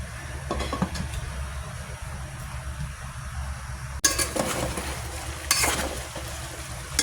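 Chicken for sinampalukang manok sizzles in a pot while a utensil stirs it, with brief scraping and clattering bursts against the pot over a steady frying hiss, no talking.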